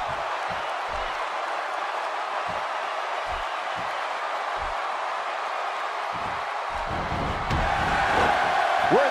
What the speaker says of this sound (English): you can bet this crowd is fired up for this match